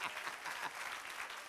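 A church congregation applauds during a sermon with a dense, continuous patter of many hands clapping. It sounds fairly distant and even throughout.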